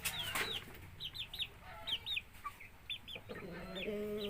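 A Rhode Island rooster in a farmyard clucks in a series of short, bright calls, fairly close, repeated in quick pairs against a low background hum.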